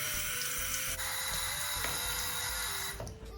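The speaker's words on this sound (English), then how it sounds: "I'm going to rinse it off with cold water" Cold tap water runs steadily into a sink while a face is rinsed, a close, continuous hiss and splash with slight changes as the flow is disturbed, tapering off at the end.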